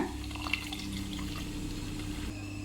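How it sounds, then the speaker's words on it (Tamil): Dissolved tamarind water pours into a fish curry with banana and mango, making a soft, steady liquid splash over a low background hum. "கரைச்சி வச்சுருக்கிற புளி ஊற்றிக்கலாங்க"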